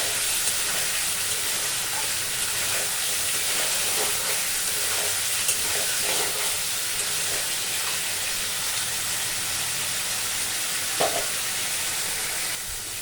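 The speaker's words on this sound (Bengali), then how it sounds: "আলু দিয়ে আমি আর 5 মিনিট কষাই" Fried potatoes sautéed in spice paste for a Bengali egg and potato curry, a steady close sizzle with occasional stirring scrapes throughout, no talking.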